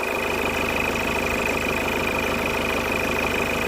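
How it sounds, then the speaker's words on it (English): A Citroen C3 1.6 HDI diesel engine, after a fault with random cutting out, idling at a steady rhythmic clatter with a constant whine, loud and close throughout, no talk. "The engine is now running for about 2 minutes"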